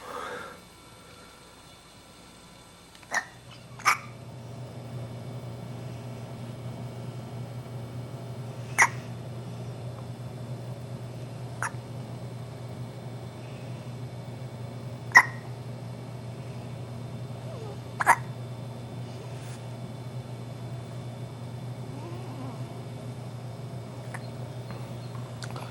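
A baby's hiccups, about seven short sharp isolated hics spaced several seconds apart, faint, over a steady low hum.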